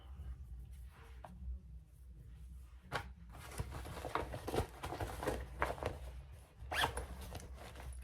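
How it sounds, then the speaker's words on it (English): A zipper being pulled along a fabric project bag, with several quick rasping zips and rustling handling of the cloth, close and alone. "Don't zip up the fabric."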